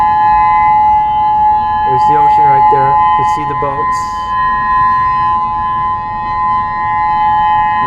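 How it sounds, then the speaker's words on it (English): A civil defense tsunami warning siren holds a steady wailing tone by the ocean, sounding continuously at moderate level while a person talks over it. "With the siren still going off."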